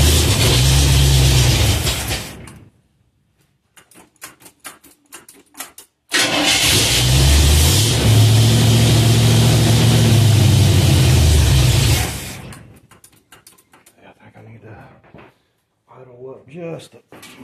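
A cold 1954 Chevy truck engine, just fitted with a new fuel pump, roars loudly in two long revving bursts close by. Short quiet gaps with clicks and faint movement separate them.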